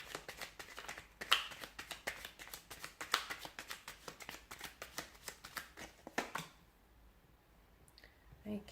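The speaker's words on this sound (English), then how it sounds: "let's give the cards a shuffle" Tarot cards are shuffled in quick bursts of crisp riffling and tapping, close and fairly quiet, ending in near silence.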